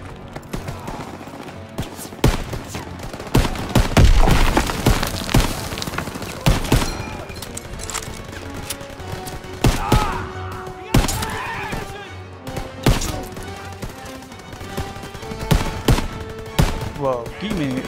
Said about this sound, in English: That was a machine gun or something up there. They were shooting at us.